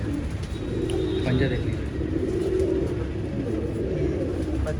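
Pigeons kept by a Jamshedpur fancier, giving soft, low cooing in a close, busy setting while someone talks over them.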